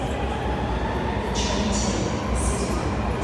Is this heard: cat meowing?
no